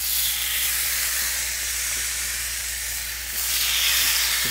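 Veal chops, brined, salted and peppered, sizzle in a hot pan on the stove with a steady, broad hiss that stays fairly even, swelling slightly toward the end, with no talk.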